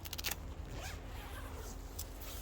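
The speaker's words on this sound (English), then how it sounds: "It has a zipper, also with the Velcro." Zipper on the door of an Alps Mountaineering Mystique 1.5 backpacking tent, one quick close zip rasp followed by a second brief pull, faint and quiet.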